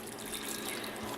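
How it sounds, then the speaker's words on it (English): Water being poured into a pot of Sri Lankan lamprais curry with spices, a steady splashing trickle that runs continuously and fairly softly, with no talking. "We are adding the water too."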